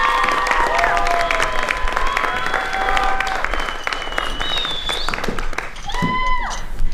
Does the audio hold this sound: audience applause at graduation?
yes